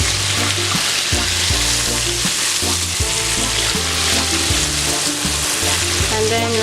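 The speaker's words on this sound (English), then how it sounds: "My butter here, just to add in more flavor to our" Meatballs fry in butter in a pan with a loud, close, continuous sizzle, while rhythmic stirring and scraping knocks break through it again and again.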